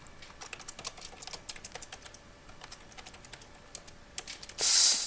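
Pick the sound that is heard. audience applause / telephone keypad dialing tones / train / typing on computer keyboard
typing on computer keyboard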